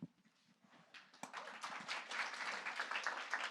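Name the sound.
audience applauding the panel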